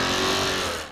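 A car revs hard during a burnout in a shopping mall parking lot at a car meetup, one loud sustained engine roar that fades slightly at the end.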